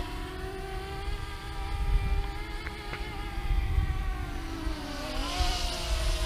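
A DJI Mavic Mini drone flying at full throttle and full speed in front of a house, its steady high-pitched multi-tone propeller whine rising and shifting in pitch as it accelerates, with no talking.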